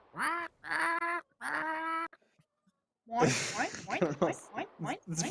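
A person imitates a seagull's call with a few drawn-out squawking cries, then a burst of quicker, choppier squawks after a short pause, close and loud.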